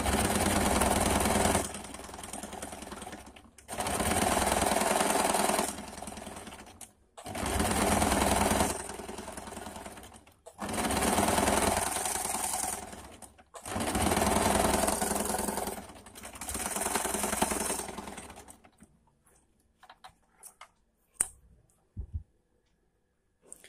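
An electric sewing machine stitches a folded suit sleeve in six steady runs of a few seconds each, separated by short pauses, then falls quiet apart from a few faint handling knocks at the end.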